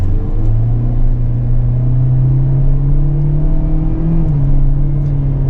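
A 2025 Kia Soul LX with a 2-liter inline four and IVT transmission pulls away and accelerates on the road, a steady engine drone rising slightly in pitch, close and loud throughout with no talk.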